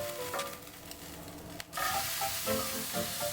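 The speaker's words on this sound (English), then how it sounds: "Preheat the pan or grill and cook the burgers to your desired doneness." Spicy lamb burgers sizzle in a hot frying pan, a close crackling hiss that dips briefly and then swells louder and steadier.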